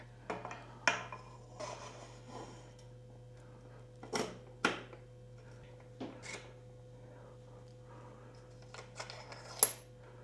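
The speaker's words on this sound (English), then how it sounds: "Now I'm going to insert the fork." A rigid bicycle fork slides into a mountain bike frame over installed headset bearings, giving a series of sharp, irregular metallic clicks and taps close by over a faint steady hum.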